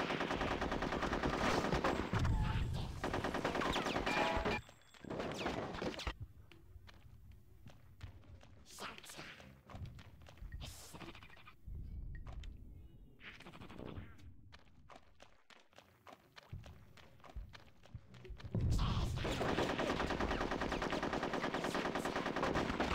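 Gunfire from the video game Conker's Bad Fur Day, with bursts of rapid shots and thuds over steady game sound, dropping away midway before loud game noise returns; a voice talks over it.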